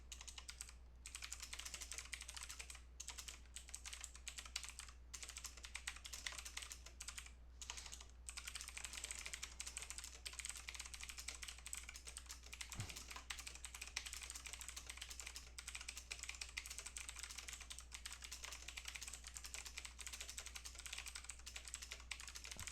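Steady typing on a computer keyboard runs continuously and fairly quietly at an even level, with a few short pauses and no voices.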